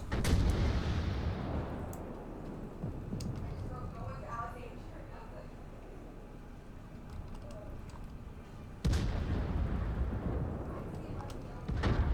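Heavy main guns of a tier 3 Dreadnought battleship in World of Warships fire with deep booming blasts, one at the start and another later, while a player talks quietly over the rumbling background.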